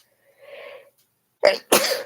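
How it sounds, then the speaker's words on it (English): A single person sneezes close to the microphone: a soft intake of breath, a short pause, then a sharp explosive burst followed by a trailing exhale. "I didn't know how I'm gonna sneeze."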